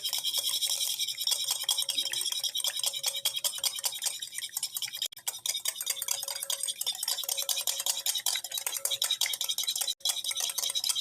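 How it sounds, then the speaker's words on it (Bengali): An egg whisked in a bowl, a fast steady scraping and clinking of the whisk against the bowl that continues without pause, close and fairly loud, with no talking. "এরপর এই ডিমটাকে খুব ভালো করে ফেটিয়ে নিতে হবে"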